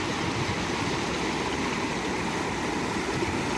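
The Rio Salgado at Icó, Ceará runs high and strong, a dense, continuous rushing roar of water that holds steady and loud throughout, with no voices.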